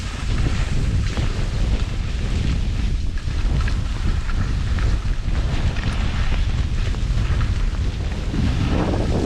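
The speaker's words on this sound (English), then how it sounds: "Pretty harsh with all the spin drift." Strong wind blows spin drift across a Scottish mountain slope during ski touring, a harsh, continuous roaring buffet against the microphone with no voices.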